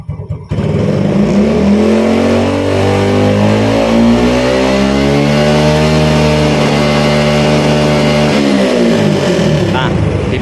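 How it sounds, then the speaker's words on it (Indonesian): A Yamaha Vega motorcycle with a midrange stutter has its engine revved up close, the pitch climbing steadily, holding high, then falling back as the throttle closes; loud and continuous throughout. "Saya coba naikkan RPM-nya ya."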